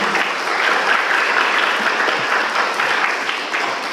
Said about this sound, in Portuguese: Tem até palmas, hein?